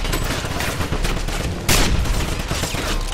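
Enemy gunfire in the Wolfenstein shooter game cracks in rapid bursts over a steady din of combat noise, with one sharp, louder blast standing out partway through.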